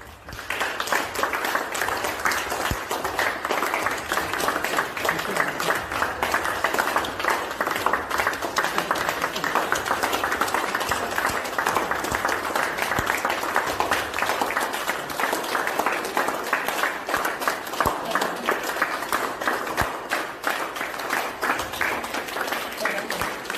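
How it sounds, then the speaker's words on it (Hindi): Hospital staff at AIIMS Raipur clap to welcome a colleague discharged after recovering from COVID-19, a long, steady, dense round of applause with no break. "कैसे उनके साथी कर्मचारियों ने उनका ताली बजाकर स्वागत किया"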